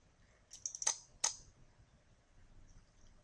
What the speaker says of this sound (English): You can click on any one of these